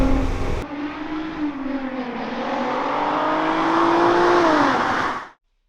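A Golf Mk1 GTI with a swapped-in VR6 3.2 engine pulling hard on the road, its revs rising in a long, loud, raspy sweep with heavy road and wind noise, then cutting off abruptly.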